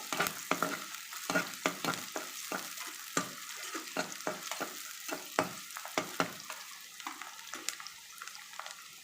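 Curry leaves sizzle in hot oil while mutton head curry cooks, a fairly quiet run of sharp crackles and pops over a soft frying hiss, with occasional stirring and no talking.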